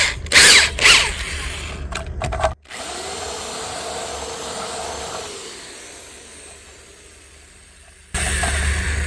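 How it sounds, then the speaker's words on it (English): A power drill bores a hole for a phone mount in a 2022 Ford Maverick interior trim, starting with short loud bursts, then a sustained steady whir that slowly fades before a final loud burst of drilling. "it always helps if you tighten the drill bit in there."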